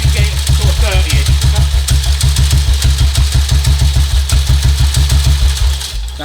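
A 1952 BSA M21 single-cylinder motorcycle engine running loud and close, with an even, rapid thumping beat that holds steady before easing off at the end.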